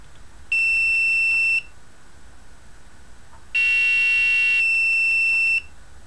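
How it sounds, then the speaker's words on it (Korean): An electronic buzzer driven by an analog value of 200 emits two steady high-pitched tones, one lasting about a second and a second longer one, loud and even over a faint background hiss. "부저가 이제 울린다는 얘기죠"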